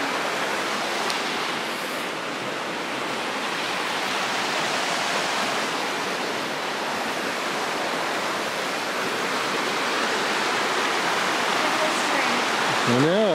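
A river in the Great Smoky Mountains rushes steadily past as a continuous broadband wash of flowing water, loud and close, with no pause across the stretch.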